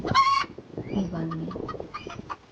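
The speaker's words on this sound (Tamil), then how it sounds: "சவுண்டு வந்து சேவல் மாதிரி தான் இருக்குது." Rooster crowing at an animal exhibit inside a butterfly house, a loud harmonic call at the start followed by rougher clucking and crowing sounds, close and clear with no talking.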